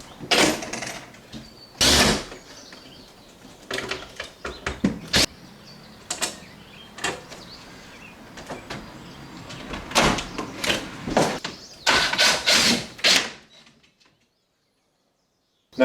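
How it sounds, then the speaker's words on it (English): An old exterior screen door is taken off its frame after its hinge pin is pulled: repeated creaks, knocks and sliding clatters come in irregular bursts close up, then quiet. "Take the pin out of the door, get the door out of here,"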